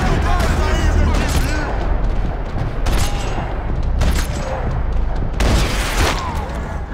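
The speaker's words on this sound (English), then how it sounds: "Another parking lot rattling with gunfire." Video game gunfire from Max Payne 3 in a parking lot shootout, dense rattling bursts and booming shots rolling continuously under a steady roar, with a person talking over parts of it.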